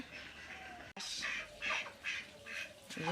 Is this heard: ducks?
yes